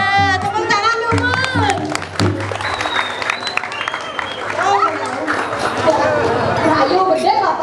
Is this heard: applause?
yes